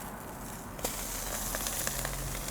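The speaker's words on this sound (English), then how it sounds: "we're gonna give the shrimp a nice sear on the griddle" Shrimp sear on a hot griddle coated with chili oil, giving a steady, fairly quiet hiss of frying with small pops and crackles scattered through it.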